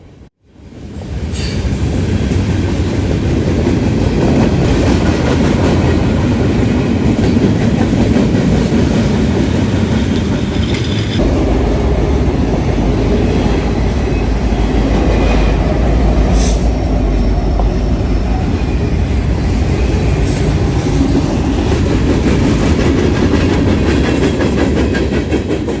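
A Norfolk Southern freight train led by a GE rebuild locomotive with an EMD unit mid-train rolls past close by, a loud continuous rumble and rattle of wheels and cars lasting the whole time with faint squeals.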